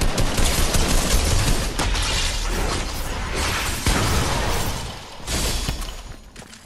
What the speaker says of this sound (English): Shooting going on over here.